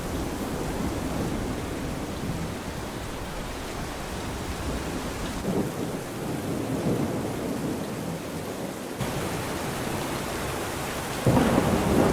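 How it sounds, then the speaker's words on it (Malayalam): Heavy rain pours in a constant, loud roar while low thunder rumbles through it, with no voices. "ഭയങ്കര മഴയാണല്ലോ"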